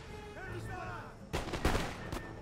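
Musket volleys and artillery fire in the Empire Total War strategy game, a burst of loud cracks and booms in the second half, preceded by quieter game ambience with whistling tones.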